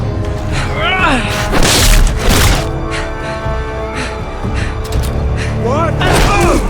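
Booms, thuds and cracks of gunfire and explosions in a Game of Thrones adventure game, loud and dense, mixed with shouting voices and music.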